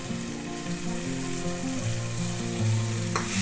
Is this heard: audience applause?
no